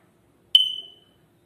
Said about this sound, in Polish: czujnik daje sygnał, wymieńcie baterię